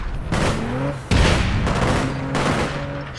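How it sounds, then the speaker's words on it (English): A grenade explodes in the APB Reloaded shooter game: several loud, heavy blasts strike in quick succession over a steady tonal background hum, close and booming. "Oh no! I throwed a grenade!"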